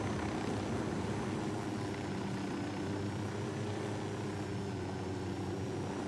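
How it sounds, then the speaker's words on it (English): A helicopter in a video game, flying low over a hill to land, gives a steady, loud rotor and engine drone that holds without a break for the whole stretch, with no voices over it. "Land the chopper."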